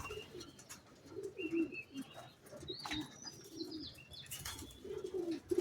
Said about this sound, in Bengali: এখানে কিছু রেসার আছে, এই যে রেসার পায়রা।